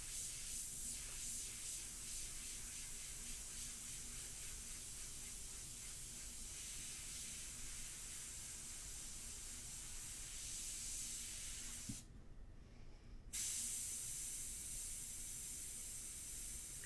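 An airbrush sprays India ink for a portrait painting, a continuous soft even hiss close to the surface, briefly cutting out for about a second before resuming.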